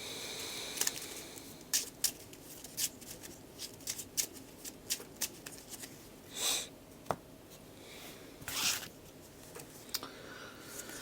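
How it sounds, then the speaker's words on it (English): Marvel Champions game cards are handled and shuffled on a table, giving soft riffling bursts and scattered light taps and clicks, fairly faint and close, with no talk. "Shuffle this in."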